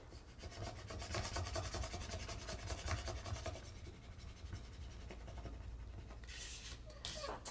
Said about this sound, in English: now I can burnish it all, rubbing it really hard with the scraper